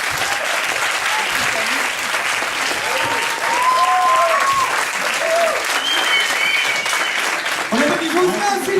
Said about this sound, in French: On applaudit Francoul, s'il vous plaît.